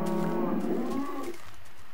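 Cows mooing in the video game Minecraft, with baby cows in the herd: a sustained, loud, tonal bovine moo lasting over a second, then fading into quiet with no talk.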